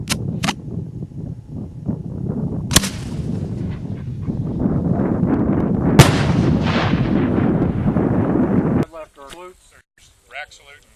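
Fireworks go off nearby with several sharp loud bangs followed by a long roaring, crackling burst that cuts off abruptly, leaving a quieter tail where a person speaks.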